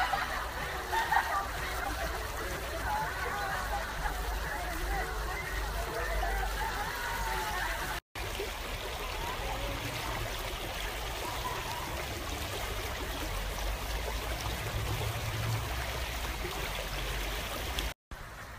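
A river flows beside a hotel in Baden-Baden, its steady rushing and trickling water filling the scene close and continuous, with occasional faint voices.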